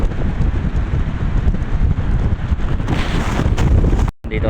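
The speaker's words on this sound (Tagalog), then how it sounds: "Lumalakas yung hangin mga kalod dito sa taas." Strong habagat monsoon wind gusting hard at a high, exposed spot, with rain mixed in, roaring loud and continuous across the whole stretch, buffeting the microphone, then dropping out briefly near the end.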